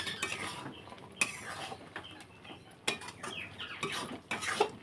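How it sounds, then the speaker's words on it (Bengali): Star fruit sweet pickle is stirred in a cooking pot with a metal utensil, giving quiet, irregular clinks and scrapes against the pot, fairly close with no voices. "একটু নাড়িয়ে দেবো"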